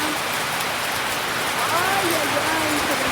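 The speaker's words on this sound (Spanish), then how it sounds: "se dejó caer la lluvia acá en mi casa" Heavy rain pours down outside a house, a loud, unbroken hiss that fills the whole stretch. A person speaks over the downpour partway through.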